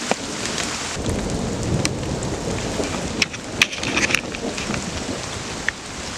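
Rain pours steadily onto a bushcraft shelter during a thunderstorm, with rumbling thunder underneath and sharp drips and pops striking near the microphone, no voices.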